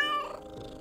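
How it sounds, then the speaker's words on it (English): A domestic cat meows clearly and close by, a single drawn-out call that fades into a softer, breathy tail, with no voices over it. "I'm here with my sidekick, the sleepiest cat in all the land, Miss Meow Meow."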